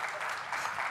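Applause from an audience at a presentation on the Casper Suite, a steady, dense wash of clapping filling the whole moment at moderate distance.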